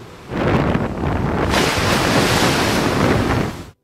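Strong Patagonian wind roars and buffets the microphone continuously, with a rushing, surf-like texture that swells louder partway through and then cuts off.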